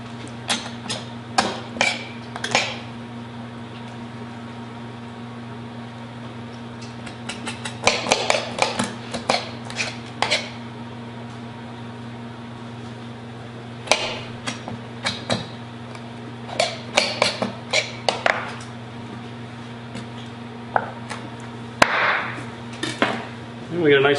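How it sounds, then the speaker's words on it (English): A knife scrapes meat away from a chicken bone in short bursts of scratchy scraping, separated by quiet pauses, close up, with a faint steady hum underneath. "and then scrape the bone away"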